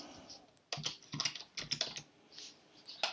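Typing a password on a Mac computer keyboard during a software installation, a short run of soft, irregular keystrokes, close and fairly quiet, with no talking.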